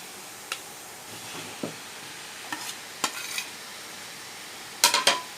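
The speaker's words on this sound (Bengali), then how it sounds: "এবার আমরা দিয়ে দেবো এঁচোড় আর আলু যেটা ভাজা করে রেখেছি সেটা আমরা দিয়ে দেবো" Young jackfruit and fried potato being stirred into a spice masala in a pan, with a few scattered spatula scrapes and metallic clinks over a soft sizzle, ending in a quick cluster of taps; no talking.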